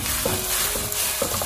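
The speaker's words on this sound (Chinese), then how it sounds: "我们再把油麦菜加进来，这里我们要开大火，快速的将它翻炒均匀" Romaine lettuce stir-fried over high heat in a wok: a steady loud sizzle with a few scraping stirs of the spatula, no talking.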